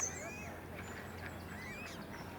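Coots call at Yarrow Valley, with several short squeaky and nasal calls overlapping at moderate distance against a steady outdoor background.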